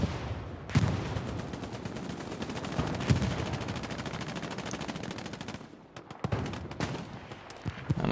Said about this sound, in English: Currently walking into the artillery fire